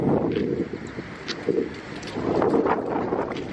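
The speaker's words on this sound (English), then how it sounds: "It's windy though." Gusty wind buffeting the microphone in uneven rumbling bursts, loud and close, with no voices.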